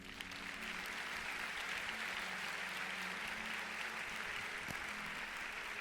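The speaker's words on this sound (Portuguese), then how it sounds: "Você pode dar um aplauso ao Senhor?" A church audience gives applause to the Lord, a continuous, even roar of many clapping hands at moderate distance, sustained for several seconds without speech.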